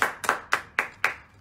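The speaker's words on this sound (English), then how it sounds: "Clap for Danny" Five distinct claps in a fairly even rhythm, close and moderately loud, offered for a donor at a political campaign gathering, each sharp hit separated by a short gap.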